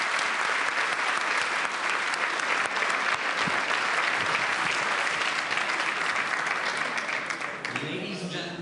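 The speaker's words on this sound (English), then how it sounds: "Let's give a huge round of applause to our panel." Applause from the Munich Security Conference audience for a panel, dense and continuous from a large hall, fading near the end as a voice begins speaking over it.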